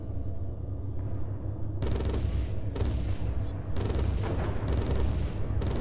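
Spaceship weapons in the space combat video game Fractured Space fire repeated volleys of booming shots, loud bursts starting after a quieter opening and recurring in waves over a constant low rumble.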